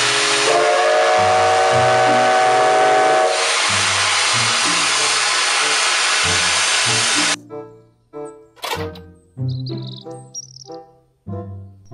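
A toy Thomas train lets out a loud, steady steam whistle and hiss for about seven seconds over background music, then cuts off abruptly.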